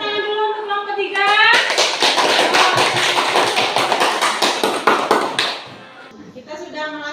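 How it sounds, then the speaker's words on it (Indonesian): Students in a classroom clap for the third discussion group, a burst of rapid, loud, close hand claps lasting several seconds. A voice speaks before the clapping starts and again after it fades. "Tepuk tangan dulu untuk kelompok ketiga."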